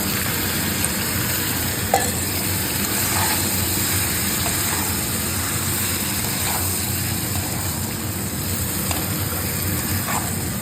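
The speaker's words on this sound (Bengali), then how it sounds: "এখন এই যে আমার চিকেন কষা হচ্ছে" Chicken pieces with onion cook in a pan for biryani, giving a continuous close sizzle with light, scattered scraping clicks as the food is stirred.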